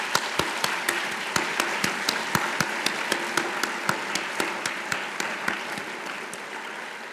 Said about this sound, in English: let's give one more round of applause to all of our students who were awarded scholarships this evening.